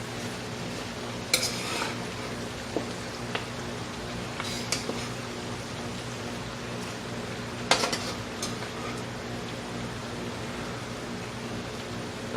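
Collard greens being stirred and wilted in a pot, a steady soft sizzle with occasional scraping and clinks of a utensil against the pot.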